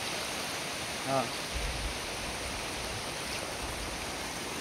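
Floodwater rushes past in a steady, dense roar with no break, and a voice gives one short exclamation early on.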